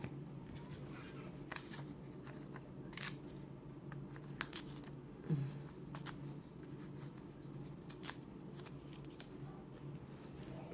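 Scissors snip through fabric, cutting it roughly into a circle for a pocket-and-flower craft, with faint irregular crisp snips and small clicks over a quiet room hush.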